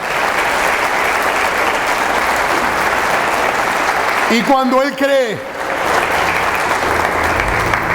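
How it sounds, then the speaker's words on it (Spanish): Church congregation applauding during a Spanish-language sermon, a steady broadband wash of clapping filling the room throughout, with a voice speaking briefly over it midway. "Dale un aplauso al Señor en esta mañana."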